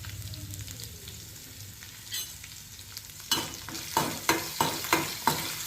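Onions frying in a pan, a soft steady sizzle at first, then a run of sharp, evenly spaced scraping stirs with a spoon against the pan.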